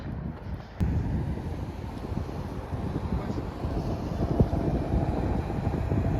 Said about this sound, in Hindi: ठंडा ठंडा मौसम है, हवा चल रही है बढ़िया एकदम।